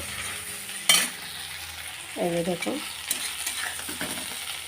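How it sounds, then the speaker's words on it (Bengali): Prawns fry in a hot pan with a loud, steady sizzle, broken by a sharp scrape or clatter of stirring near the start and a brief spoken voice midway. "প্রথমে আমি চিংড়ি মাছটা ভেজে নেব ভালো করে লাল লাল করে"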